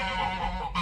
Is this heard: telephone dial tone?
no